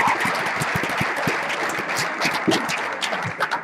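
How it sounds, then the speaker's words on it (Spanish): An audience at a line-following robot contest at OSHWDem 2016 claps steadily, a dense patter of many hands at moderate loudness that carries on without pause. "un aplauso"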